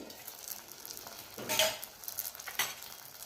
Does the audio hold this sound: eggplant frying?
yes